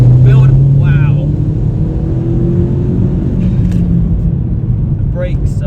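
A 300 bhp SEAT Leon Cupra Mk1 engine revving hard from inside the car, with a loud rumbling exhaust and occasional sharp pops, under brief bursts of talk.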